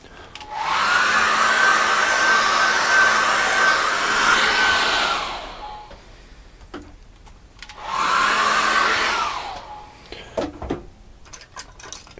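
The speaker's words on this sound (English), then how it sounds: "Now, I'm going to dry that again." A hair dryer blows on acrylic paint in two long runs, a loud steady close whir that starts, holds for several seconds, stops, then starts again, with quiet handling noises between.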